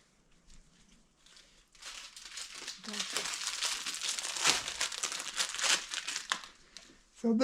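Soft cloth wiring tape for a 1969 Suzuki TS250 is handled and crinkled up close, making a continuous rustling crackle that builds after a quieter start, while a voice talks faintly underneath.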